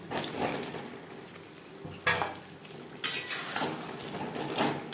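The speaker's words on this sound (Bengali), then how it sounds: "মশলার সাথে আলু বেশ ভালো করে মিক্সড করে দেবো" Potatoes mixed into spices in a pan for Kashmiri aloo dum, with scraping spatula strokes and metal clatter over a soft frying sizzle, coming in several bursts of stirring.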